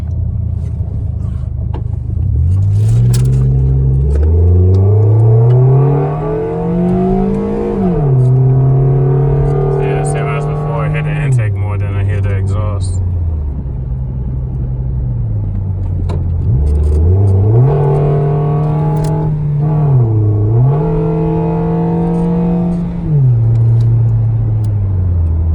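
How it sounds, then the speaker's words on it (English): A Toyota Yaris refitted with its factory intake manifold pulls away on a test drive, the engine revving up through gears in repeated rising sweeps, dropping at each shift, loud and close from inside the cabin. "We're gonna do a quick test drive."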